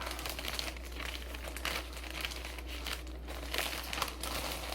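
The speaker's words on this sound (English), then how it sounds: "We'll get this in the poly bag." Folded clothing being pushed into a plastic poly mailer bag for shipping, a continuous close crinkling and rustling of thin plastic over a low steady hum, with no voices.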